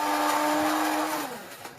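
A blender grinds dehydrated onions in a brief loud whirring burst, its motor steady and then winding down toward the end, with no talking.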